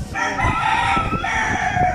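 A rooster crows loudly and close by in one long drawn-out call, with no one talking.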